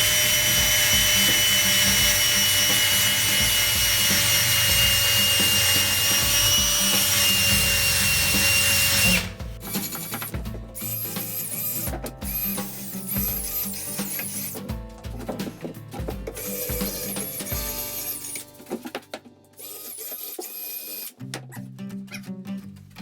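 Wood is sanded for a farmhouse blanket ladder: a loud, continuous power-sander whine runs for several seconds, then gives way to scattered shorter rubbing and scraping strokes with brief pauses.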